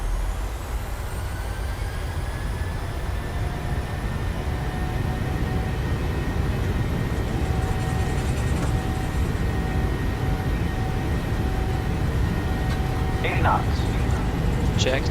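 PMDG 737 jet in Microsoft Flight Simulator 2020 taking off from Oslo, a steady broad engine roar that builds slightly over fifteen seconds, with a brief click near the end.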